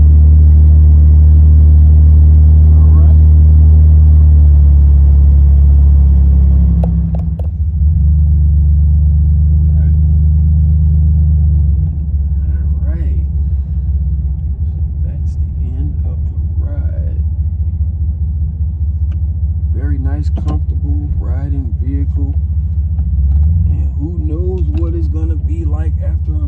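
A GM G-body car's engine rumbles steadily with a low, heavy drone as it drives; the sound is loud and continuous, dips briefly around the middle, and someone talks over it in the second half.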